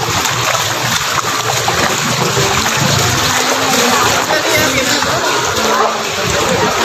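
Typhoon floodwater splashes and rushes continuously and loudly up close in Capiz, Philippines, with a steady watery roar throughout.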